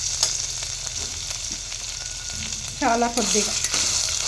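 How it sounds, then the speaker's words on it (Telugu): Ginger paste frying in oil for coconut rice, a continuous close sizzle with a few stirring knocks, and a person briefly speaks over it near the end. "ఇది ఆయిల్లో బాగా ఫ్రై అయ్యేలాగా చూసుకోవాలి."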